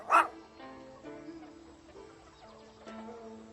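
A single short dog bark or yip near the start, from a family dog named Little Brother, followed by quiet tonal background music.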